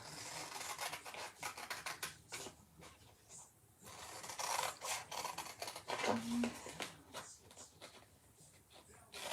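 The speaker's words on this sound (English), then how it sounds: "So I'm just going to cut this out." Scissors cut out a paper design for a spring vintage farmhouse door hanger, giving repeated close snips and rustling paper scrapes in an uneven rhythm, with brief talking in places.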